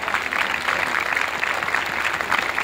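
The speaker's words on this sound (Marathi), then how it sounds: "ही बघा आमच्या उत्स्फूर्त असलेल्या या टाळ्या आहेत." Spontaneous clapping from an audience at a historical lecture held at a fort, dense and steady throughout, heard up close with no voices over it.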